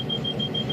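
A train's safety control alarm, tied to a dead man's pedal, sounds as a steady high electronic tone, moderately loud and continuous over a low rumble.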